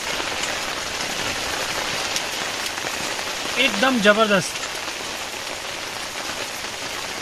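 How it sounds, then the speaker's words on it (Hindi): Heavy, wind-driven rain drums steadily on a leaking tent's fabric in a dense, constant hiss, with a brief voice speaking near the middle. "बाहर हवा चल रही है और बारिश हो रही है और मेरा टेंट टपक रहा है"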